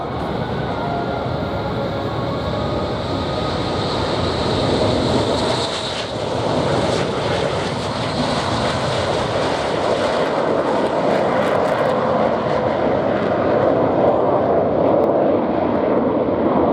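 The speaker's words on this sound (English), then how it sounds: "Perfect takeoff." Airshow aircraft engines roar through a takeoff, a loud sustained broadband rush that swells and shifts in pitch as the plane passes, steady throughout with no talk.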